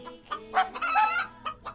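A rooster gives a run of clucks and short throaty calls, close and fairly loud, bunched in bursts over a second or two, with no voices present.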